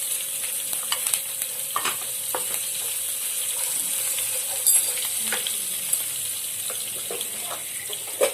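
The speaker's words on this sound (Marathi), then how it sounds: "बारीक कापलेल्या मिरच्या आपल्या त्या टाकलेल्या आहे." Finely chopped green chillies fry in oil in a pan for matar kachori filling, a continuous close sizzle broken by irregular sharp pops and crackles over about eight seconds, with no speech.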